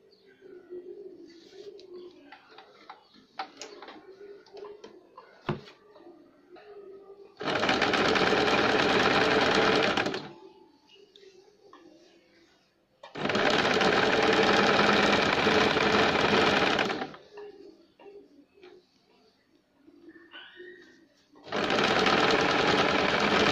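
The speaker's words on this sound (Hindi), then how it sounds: "उसे भी हम इस तरह से फोल्ड करके सिलाई लगाएंगे" An electric sewing machine stitches a baby girl's shirt in three loud, steady bursts of a few seconds each, with quieter pauses between where birds coo faintly in the background.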